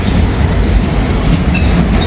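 A train passes close by in Hamilton, a loud continuous rumble of railcars rolling over the track with faint clacking and a brief wheel squeal.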